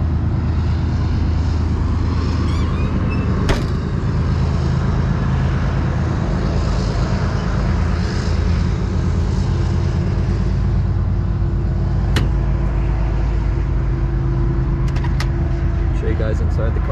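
A loud, steady rumble of a train passing close by fills the whole stretch, with a sharp horn-like tone toward the end, while someone talks over it beside a 1955 Chevrolet 210.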